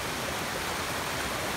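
Waterfall in Karura Forest, Kenya, pours as a steady, dense broadband rush of water, unbroken and even throughout with no voices.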